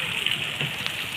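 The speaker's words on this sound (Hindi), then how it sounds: "बारिश हमारे घर में आ रही है।" Rain pours into a house as a constant dense hiss of water, with splashing and pattering throughout and no clear breaks.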